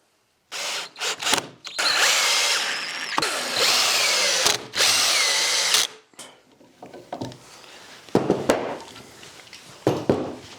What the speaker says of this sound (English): screw them in